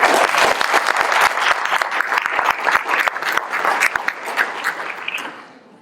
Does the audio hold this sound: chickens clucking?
no